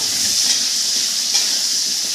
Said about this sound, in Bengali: ভালো করে আলুগুলোকে ভেজে নেব।